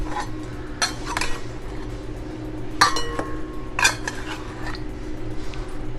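Chilli marinade with salt is mixed into seer fish (vanjaram) in a bowl, with a spoon clinking sharply against the dish several times at uneven intervals over a steady low background hum.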